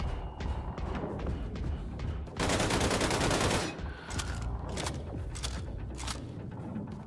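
Gunfire in Wolfenstein II: The New Colossus while shooting enemies: scattered loud shots, then a dense, sustained burst of fire about a second long in the middle, followed by more irregular shots.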